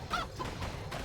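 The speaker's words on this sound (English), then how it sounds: "Chickens." Chickens in the video game Warcraft 3 make a brief squawking, honking call over faint background game noise, lasting about a second.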